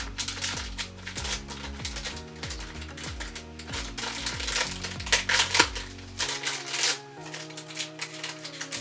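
Packaging around pink and gold earrings being opened by hand: crinkly plastic rustles and snapping clicks in uneven bursts, close up, over faint background music.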